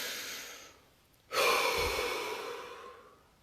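A single deep breath, a long drawn inhale followed by a steady exhale, close and alone in a quiet room.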